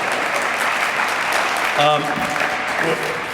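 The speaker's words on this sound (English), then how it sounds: "that'll get applause" Audience at a community gathering claps in a steady, fairly loud wash of applause, with a brief voice rising over it midway.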